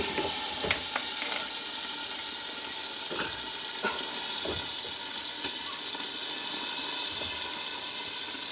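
Pork chops fry in a pan with fried potatoes, giving a steady broadband sizzle and hiss broken by scattered pops and crackles, close and continuous, with no voices.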